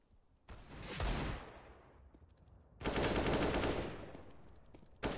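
Gunfire in Counter-Strike on the map Nuke, two long bursts of rapid automatic fire separated by a brief lull, loud and dense, with a short shot at the end.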